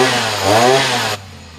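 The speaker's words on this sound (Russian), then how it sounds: "триммеры способны срезать высокую траву, сорняки с мощным стеблем и кустарники" A petrol grass trimmer engine runs loud and close, a high buzzing whine that rises slightly in pitch before cutting off abruptly near the end.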